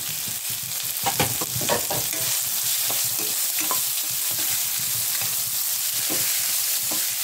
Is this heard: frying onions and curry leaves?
yes